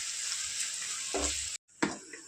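Ginger garlic paste frying in hot oil for a mango chilli chicken pickle, a steady close sizzle with brief stirring scrapes, a short dropout, then the frying resumes loudly.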